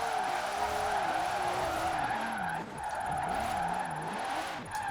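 A Toyota fitted with a Nissan engine spins its wheels in Forza Horizon 4, the engine droning and wavering in pitch while tyres squeal steadily throughout, with a brief dip midway.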